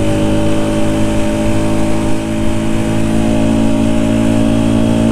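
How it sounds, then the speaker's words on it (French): A Rieju Century 125 motorcycle engine, still being run in, runs hard at full throttle, a loud, sustained mechanical drone that stays strong and steady from start to finish. "Là, je suis à fond, vous voyez, bon ça monte."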